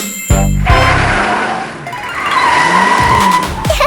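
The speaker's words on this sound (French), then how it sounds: "Une voiture entre lentement dans le couloir de l'école" A car rolls into a school hallway in a cartoon scene: a sharp tire screech and skid opens, followed by a revving engine drone and more squealing tires, loud and close.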